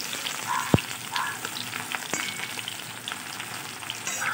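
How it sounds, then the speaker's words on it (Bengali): Onions frying in oil until red-brown, for a duck-egg curry in coconut milk: a continuous soft sizzle with a sharp knock near the start and a few faint scrapes, fairly quiet and without voices. "পেঁয়াজগুলো পুরো লাল লাল হয়ে ভাজা হয়ে গেছে"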